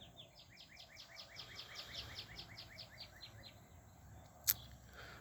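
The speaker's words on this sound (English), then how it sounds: "You hear those beautiful birds this morning?" A bird sings a quick run of repeated chirping notes against a quiet outdoor background, with one sharp brief click near the end.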